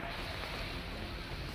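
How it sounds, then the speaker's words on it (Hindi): The flooded Sindh River in Shivpuri, Madhya Pradesh, surges during the monsoon with a dense, steady roar of rushing water and waves, loud and unbroken throughout. "जहां सिंध नदी की लहरें मानव बस्तियों के आर पार बह रही हैं।"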